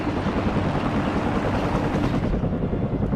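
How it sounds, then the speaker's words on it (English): A Cobra attack helicopter in the war game WARNO gives off a steady, loud rotor and engine drone, continuous throughout with no voices. "it actually looks like our allies' chopper just took a hit here, the Cobra"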